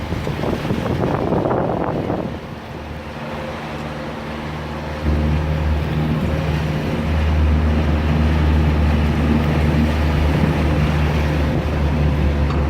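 A motor boat running slowly on open water near a floating dock, its engine a low steady rumble that grows heavier partway through, with wind buffeting the microphone and water washing around the hull.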